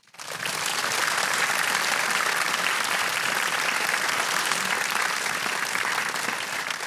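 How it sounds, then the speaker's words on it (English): A lecture-hall audience at a prize lecture gives a big round of applause for two presenters, rising quickly from silence into loud, dense, continuous clapping that holds steady to the end. "may I invite all of you to give the two presenters a big applause"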